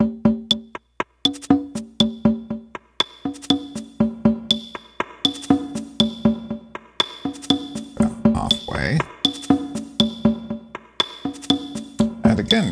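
A Casio SA-76 keyboard plays a Latin rhythm pattern while reverb is slowly turned up, the steady percussive groove growing fuller and more spacious as it runs, loud and continuous, with no talking.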